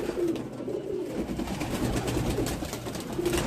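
Pigeons being colored coo softly and close by in a few brief throaty calls over a low background murmur and handling noise.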